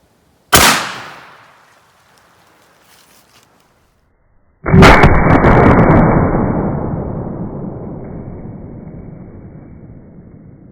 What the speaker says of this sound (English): triple-aught buck, 3 pellets out of a 410